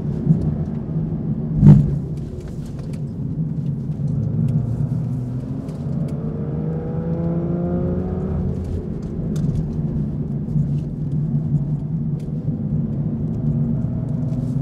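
An Aston Martin V12 Vantage Zagato's V12 engine is driven hard through corners, with a deep continuous rumble whose revs climb and fall, building as the car pulls out of a bend. No one speaks.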